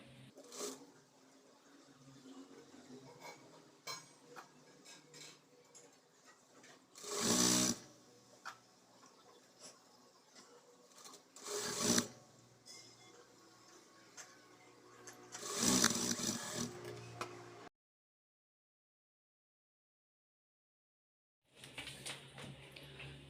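An electric sewing machine stitches the front lining of a blouse in short, quiet bursts of rapid whirring, separated by pauses and soft handling clicks, with a stretch of silence near the end.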